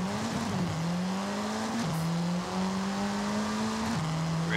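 An MG6 XPower drag-tuned car in Forza Horizon 5 drives with a steady engine drone that climbs in pitch through each gear, drops at three shifts and climbs again, loud and close with no talk.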